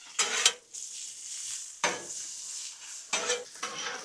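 Bacon cooks on a Blackstone griddle, with a steady sizzle broken by several sharp metal spatula scrapes and clanks against the flat top at irregular intervals, close up and without talk.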